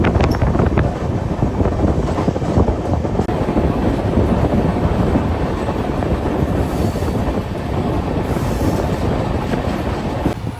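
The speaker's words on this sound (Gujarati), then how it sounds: "તો આમ તો આ ટ્રેન જે છે એ અમદાવાદથી જાય છે છેક ગોરખપુર, એટલે કે નેપાળ બોર્ડર પાસે." A moving passenger train running from Ahmedabad to Gorakhpur makes a loud, constant rumble with rapid clattering of the wheels on the track, heard up close amid heavy wind buffeting throughout.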